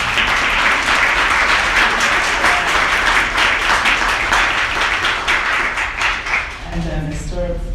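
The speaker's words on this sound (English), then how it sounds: "So I would like you to applaud." A university commemorative audience at McGill breaks into steady, dense applause, loud and sustained for several seconds before tapering off as a voice begins near the end.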